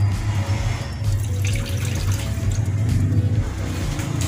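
Water poured into a measuring container while making kababayan bread dough, a steady splashing stream running for several seconds in a home kitchen, fairly close.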